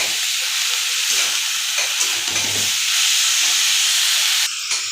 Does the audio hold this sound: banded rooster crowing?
no